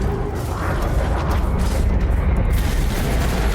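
Spaceship weapons firing in Elite Dangerous aboard a Cobra Mk V, heard as a steady loud mechanical rumble with grinding, ratcheting texture that runs for the whole few seconds, with no talk.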